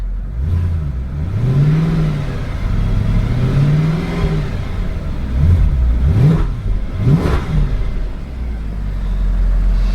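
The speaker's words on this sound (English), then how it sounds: "it's amazing sound this AMG gives off" A 2009 Mercedes-Benz S63 AMG engine revs loudly nearby, rising and falling in several long swells followed by two sharp blips, then settling into a deep rumble.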